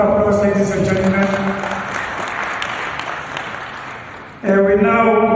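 Audience applause at a municipal investment summit, a dense wash of clapping that swells and then eases, with a voice talking over it near the end.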